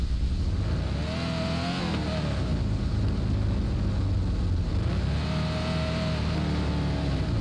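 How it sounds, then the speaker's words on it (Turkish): Diesel car engine in the Android driving game American City Fast Car Driving, a steady loud drone with a revving rise and fall near the start and again midway, heard alone with no talk. "dizel anlaşılan bütün motor sesini duyuyoruz"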